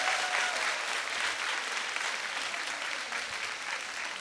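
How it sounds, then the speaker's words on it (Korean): Congregation applauding at an evening church revival service, an even, continuous wash of many hands clapping at moderate distance, steady from start to finish. "박수 한번 합시다"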